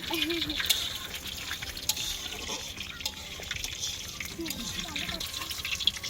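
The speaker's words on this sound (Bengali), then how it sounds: "দেখুন জল পড়ছে আর আমি ভিজে ভিজে রান্না করছি" Rainwater drips and patters around an outdoor village picnic cooking spot, irregular close splashes and drops over a soft wet background, with a voice speaking at times.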